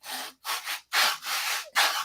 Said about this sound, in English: Long sanding block with 80 grit on it.